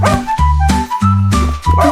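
A puppy barks over a cheerful children's song, with short yips and bow-wows landing in rhythm against steady music throughout.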